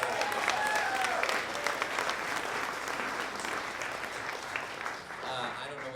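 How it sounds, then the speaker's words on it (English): An audience at a live show at a small music venue claps steadily in a dense, even wash of applause that holds for several seconds before easing slightly. "And so can you clap for her?"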